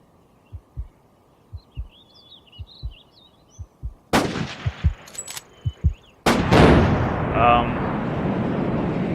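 Gunshots in the hunting video game Cabela's Outdoor Adventures: a string of sharp, evenly spaced single shots, then a louder cluster of rapid bursts ending in a sustained roar, all close and prominent.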